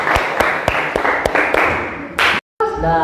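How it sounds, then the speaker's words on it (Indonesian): A classroom claps for group 4 before their presentation, with a few distinct, evenly spaced sharp claps followed by a short louder burst, then a brief silence and a voice beginning to speak. "Beri tepuk tangan dulu untuk kelompok 4 supaya semangat."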